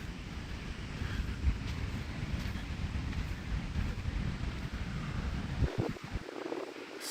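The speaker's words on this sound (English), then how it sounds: "It's windy" Steady wind buffets the microphone with a low, rumbling roar at the Venice Canals in Venice Beach, California, continuing unbroken for several seconds and dropping away briefly near the end.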